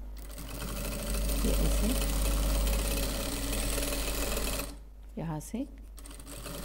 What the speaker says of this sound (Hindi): जैसे मैं यहाँ सिलाई कर रही हूँ वैसे ही हमें यहाँ दूसरी साइड में भी सिलाई करना है।